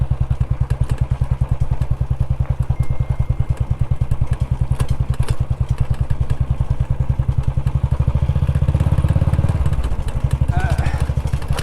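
A motorbike rides over a bumpy off-road village road, its engine a loud, close, rapid rhythmic thumping with occasional clatter from the rough ground, while someone talks over it.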